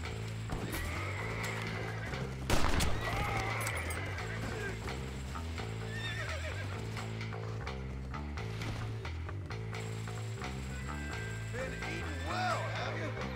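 A horse in the Red Dead Redemption video game whinnies and neighs again and again over a steady run of clopping hooves, with a sharp loud burst near the start.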